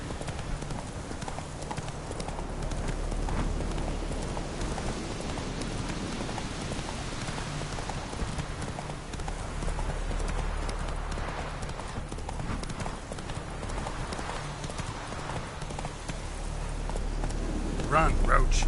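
Horse galloping in The Witcher video game, a fast continuous clip-clop of hooves over a rain-like background, while someone talks over it.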